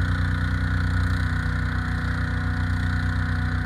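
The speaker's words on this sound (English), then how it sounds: "Powered by a 20 horsepower Subaru gas engine." A 20 horsepower Subaru gas engine runs steadily on a 2018 tandem-axle grapple dump trailer, a loud, close, even mechanical drone with no talk over it.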